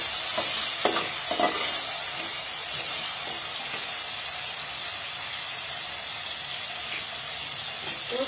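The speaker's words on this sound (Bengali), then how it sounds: "তো পেঁয়াজের সাথে দিয়ে দিচ্ছি। একসাথে ভেজে নিচ্ছি।" Large potato pieces and onion fry together in a hot pan, giving a steady broadband sizzle throughout with occasional scrapes and stirring clatters near the start, with no voices.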